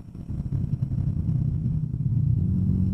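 Royal Enfield Guerrilla 450 motorcycle engine held at low revs on a race circuit, a steady deep throbbing rumble that swells slightly in loudness toward the end.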